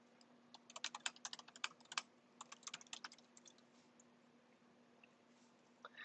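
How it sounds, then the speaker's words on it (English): Quiet clicking of a computer keyboard as someone types, rapid bursts of keystrokes that slow and trail off, close but faint over a low steady electrical hum. "Let me just type out the function in mine."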